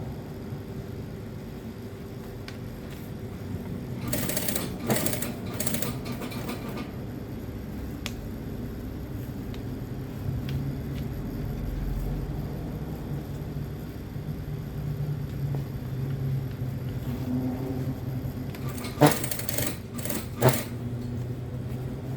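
A sewing machine stitches a folded hem on shorts cut down from long trousers, heard as two short bursts of quick clattering, near the start and near the end, over a low continuous room hum.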